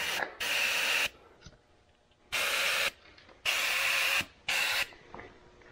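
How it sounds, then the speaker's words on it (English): Hand spray bottle misting into a powerbuggy's compartments and along its wiring, four sharp hissing bursts of about a second each separated by short pauses, close and loud over a quiet background. "I just spray in the compartments. I spray all the lines."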